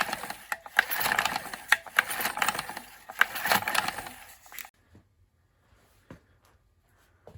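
A Honda pressure washer's recoil starter, freshly fitted with a rewound spring, is yanked repeatedly, giving several close rattling, ratcheting pulls over about four seconds, then near silence with a few faint clicks.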